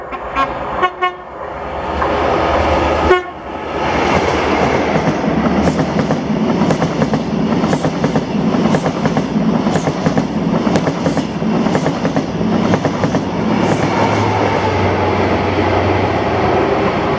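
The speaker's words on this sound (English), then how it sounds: "this was 1W96, the 1840 London North Eastern Railway service to Inverness" LNER passenger train 1W96 from London King's Cross to Inverness passing through Blair Atholl, a loud, steady rumble and clatter of wheels on rail lasting throughout, with short horn toots near the start.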